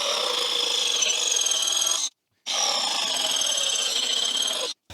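An Evolution battery-powered jigsaw cuts through wood with a loud, harsh buzzing rasp that runs for about two seconds, stops briefly, then resumes for another two seconds and cuts off, close up and alone.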